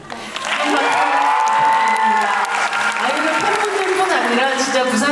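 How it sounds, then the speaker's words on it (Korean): Large film festival crowd in Busan cheering and applauding loudly, a dense sustained roar of clapping with high excited screams and voices riding over it throughout. "부산 영화제 팬분들이 다 모이니까 이 정도의 함성이 나오는군요"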